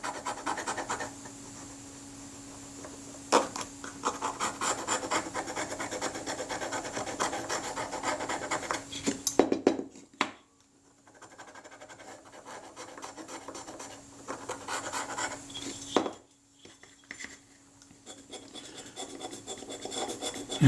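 The back edge of a scalpel scrapes corrosion off a camera body in short, rasping strokes, close and fairly loud, broken by brief pauses before the scraping resumes.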